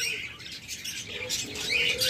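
A pair of cockatiels, male and female, calling with short squawks and chirps, close and fairly steady, no voices.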